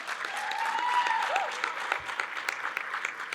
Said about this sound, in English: So I want to give Zulfa another round of applause.